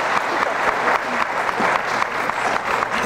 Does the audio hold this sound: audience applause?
yes